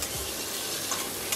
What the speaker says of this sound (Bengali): 1টা বড় সাইজের আলু, একটু বড় বড় করে কেটে প্রেশারের মধ্যে দিয়ে এর মধ্যে নুন আর হলুদ দিয়ে 5 থেকে 8 মিনিট একটু ভেজে নেব।